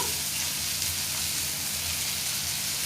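Softened tomato with salt, turmeric and ground spices frying for egg bhurji over a low flame, giving an even, continuous close sizzle like light rain, with faint stirring and no voices.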